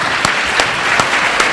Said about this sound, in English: Please join me in giving a round of applause to our amazing panelists.